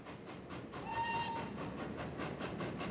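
A Don River Railway heritage train runs near Devonport, Tasmania, its wheels clacking rhythmically at a steady pace while a short whistle note sounds briefly in the middle.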